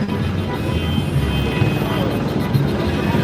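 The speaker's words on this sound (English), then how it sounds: "You can hear the helicopter in both." Steady low rotor drone of a helicopter overhead at an anti-ICE protest, constant and fairly loud throughout, with broadband rumble.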